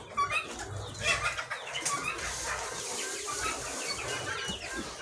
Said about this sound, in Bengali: আর এখানে আছে আপনার টাইগার মুরগির প্রায় 300 বাচ্চা